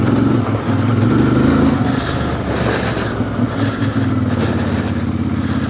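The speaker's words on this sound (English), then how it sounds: "Look at third gear takeoff." A 2026 CF Moto IBEX 450 motorcycle takes off in third gear on an off-road trail. Its engine gives a loud, steady, close drone that holds for several seconds with no break.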